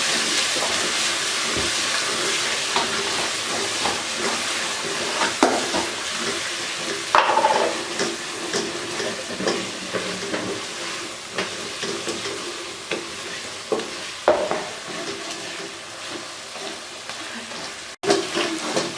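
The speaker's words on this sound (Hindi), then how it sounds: "अब मैं इनकी अच्छे से बुनाई कर लूँगी।" Spices fry in oil for a chicken gravy salan, a steady sizzle with intermittent scraping stirs of a spoon in the pan, close and continuous with no talking.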